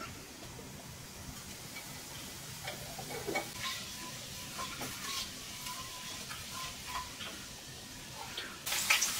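Mustard seeds and cumin crackle and sizzle in hot oil, a soft continuous hiss broken by scattered light pops and ticks, with a spoon stirring now and then, close and fairly quiet.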